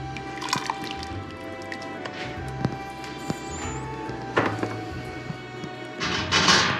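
Glass jars of homemade Dijon mustard come out of a water bath canner, with scattered drips and trickles, a few light clinks and thuds, and a sloshing rush of water near the end.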